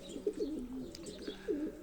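Young pigeons in a racing loft nest cooing softly, a few low wavering coos close by in a quiet setting with no talk.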